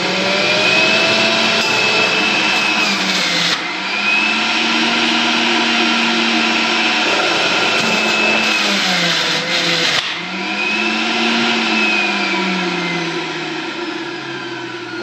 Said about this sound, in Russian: Возьмем огурец, возьмем морковочку и сделаем сачок.